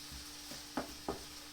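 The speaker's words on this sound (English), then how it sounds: "I'm frying off some vegetable with the white onion and the red onion together" White and red onions fry with vegetables in a pan, giving a faint, steady sizzle broken by two quick stirring scrapes near the end, with no talk.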